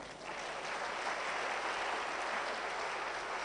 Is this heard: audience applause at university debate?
yes